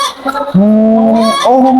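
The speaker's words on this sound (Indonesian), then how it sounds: "kalau betina berkokok sekeras itu biasanya kurang air" Layer hen crowing loudly in a coop, a close, harsh, honking call that rises into a sustained strained note and then breaks upward.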